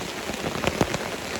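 Steady rain patters on a small umbrella at a wet campsite, a dense continuous hiss with a few louder drops striking close by, no voices.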